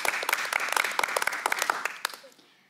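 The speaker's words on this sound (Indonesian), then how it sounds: "beri tepuk tangan yang meriah untuk para dosen tamu dan juga mahasiswa saya." Audience applause at a radio talk show practice session, honoring guest lecturers and students: a brief burst of many sharp, close hand claps that thins out and fades near the end.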